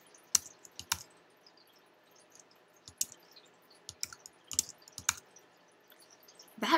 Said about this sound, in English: Sometimes I just type in random numbers, six of them, just to see what shows up.